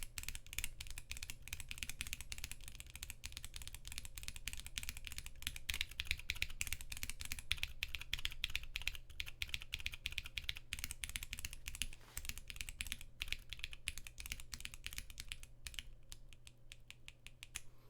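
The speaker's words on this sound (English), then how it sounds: "The bottom out sound with the cherry profile on kiwi sounds like a clicky switch." Rapid continuous typing on a mechanical keyboard fitted with Kiwi switches and Cherry profile keycaps, producing dense, sharp clacks that run steadily close to the mic, with a faint low hum underneath.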